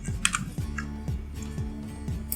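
Computer keyboard keys are pressed while entering a Microsoft Word shortcut, giving a quick run of crisp, close clicks and taps in an irregular rhythm, with no talking.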